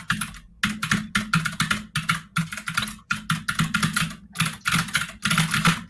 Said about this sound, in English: Give me some of that clicky keyboard music.